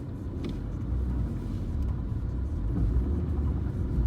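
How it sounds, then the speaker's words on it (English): A car engine labours steadily up a steep drive covered in thick, compacted snow in Scotland, a low, continuous rumble that builds gradually in loudness, with no talking. "that took several attempts to get the car up the drive"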